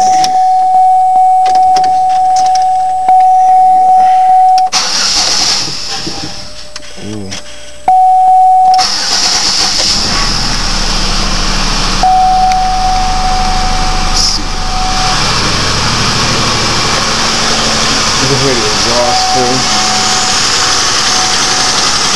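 A GM 3.4L engine cranks and starts after sitting overnight, then settles into a loud, steady idle with a persistent mechanical hum. A brief electronic tone sounds early on, and the engine runs on alone with no voices.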